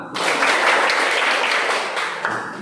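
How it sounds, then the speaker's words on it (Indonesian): A classroom of students bursts into applause during a science lesson, a dense, fairly close clatter of many hands that swells quickly, holds, then tapers slightly. "Tepuk tangan"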